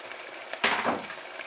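An onion is dropped straight into sauce in a pan: one sudden hissing sizzle swells, then settles into a softer simmering bubble, with no voices.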